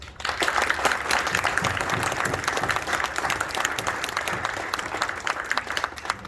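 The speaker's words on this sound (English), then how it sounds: "So please give them a round of applause." An audience at an Army enlistment ceremony claps steadily throughout, a dense patter of many hands that gradually thins toward the end, with a few faint voices mixed in.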